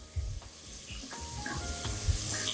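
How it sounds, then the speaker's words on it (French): Dolma stirred in a hot pot with tomato paste, a close sizzle under scraping spoon strokes and a few soft knocks against the pot, with nobody speaking. "je vais bien mélanger ma dolça"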